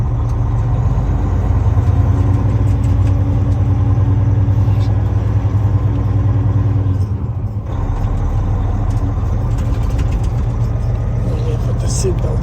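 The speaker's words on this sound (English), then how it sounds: "I'll show you how it shifts down the road, how it jumps the gear and all that." A Volvo truck with a Detroit S60 diesel engine and i-shift transmission drives along, its loud, deep engine drone steady, then briefly dipping once as a gear change occurs, with some talk over it.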